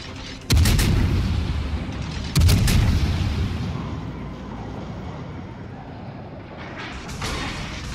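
A Hindenburg cruiser firing high-explosive shells in the World of Warships video game. Two heavy, loud salvo booms arrive about two seconds apart, each leaving a long rumbling decay, then a low battle ambience continues beneath it.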